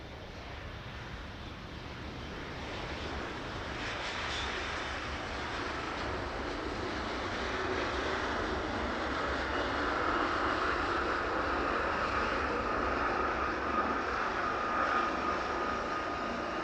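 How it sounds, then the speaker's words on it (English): Aerologic Boeing 777 cargo plane inbound from Delhi landing at East Midlands Airport, a steady broad jet roar that swells gradually and holds at a moderate distance throughout, with no talk. "There we go, that 777 making its way in past us now."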